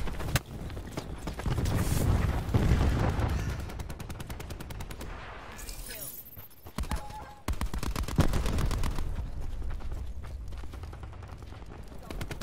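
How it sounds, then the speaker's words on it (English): Rapid, loud automatic gunfire fills a Black Ops 4 firefight, with cluster grenade explosions mixed in as rattling bursts and heavier thumps. There is a short lull in the middle before the shooting resumes, and a voice is heard alongside. "Throwing cluster grenade."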